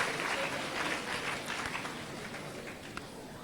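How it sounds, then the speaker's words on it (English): An audience at a 2018 university congregation ceremony applauds, a soft, steady wash of many hands clapping at a distance for several seconds. "Shall we give them a round of applause, please?"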